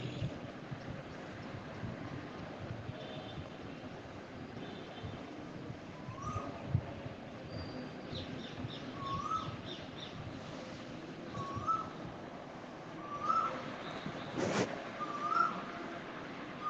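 Asian koel calling outdoors, its short rising whistled notes repeating every few seconds at a distance, faint over a steady wash of wind and background noise.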